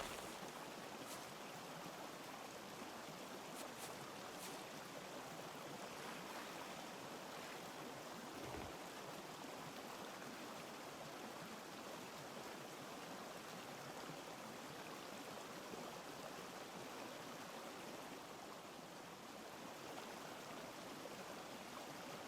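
Flowing river water in a video game: a steady, unbroken rush of broadband water noise holding an even level throughout, with no voices over it.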